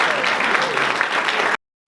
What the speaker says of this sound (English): we are now in a tradition going to give Carl Easterly a round of applause